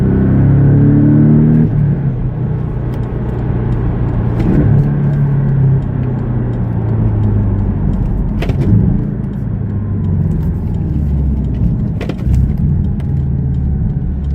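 A Porsche Cayman S engine revs and rumbles steadily through a downshift, with rising and falling engine tones and a continuous loud road drone close by throughout.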